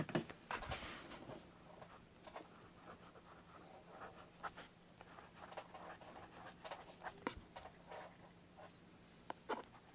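A fountain pen with a wet, juicy nib writing Conklin Brownstone brown ink on paper, making faint, close scratchy strokes in short irregular bursts against a quiet background.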